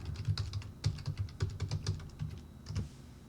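Fingers tap out a password on a computer keyboard, a close run of quick, uneven key clicks that slows and stops near the end.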